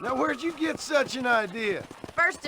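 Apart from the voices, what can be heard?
None of the usual background noises is heard.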